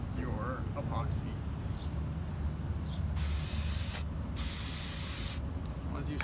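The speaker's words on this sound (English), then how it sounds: "you need to spray a release agent on the inside before pouring your epoxy" Release agent is sprayed inside a two-part mold before epoxy casting, in two short hissing aerosol bursts against a quiet background with faint handling noises.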